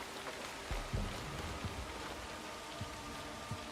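Steady rain falls at night in the game Assassin's Creed Shadows, a continuous dense hiss of drops with a few soft low thuds, moderately loud and alone with no talk.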